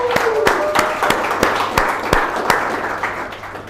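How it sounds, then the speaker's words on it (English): A crowd claps steadily in a room, with sharp individual claps standing out over the dense applause throughout. "Let's give all of them a round of applause."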